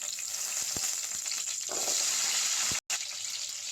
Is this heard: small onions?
yes